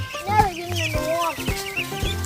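Poultry in a pen squawk and cluck in repeated short bursts while being chased and caught, close by, with people talking over the flapping birds.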